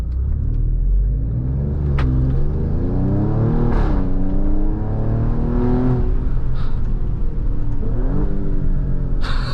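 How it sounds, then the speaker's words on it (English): A 2023 Alfa Romeo Stelvio Quadrifoglio SUV is driven with its exhaust open in race mode and a rear window down. The loud engine revs up through several gear changes with rising sweeps, a throaty rumble and occasional pops. "I roll down the rear window so you guys get a little bit more of that exhaust sound"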